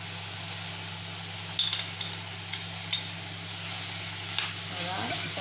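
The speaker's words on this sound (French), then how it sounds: "ma viande hachée commence à cuire et je vais rajouter les épices" Ground meat sizzles steadily in a pan while salt, cumin, pepper and ginger go in, with a few light clinks and stirring scrapes over the constant frying hiss.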